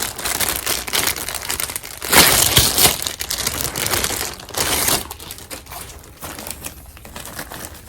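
Crinkly plastic packaging crackles and rustles up close as a large Stoney Clover pouch is unwrapped, with loud bursts of crumpling between quieter handling, no voices.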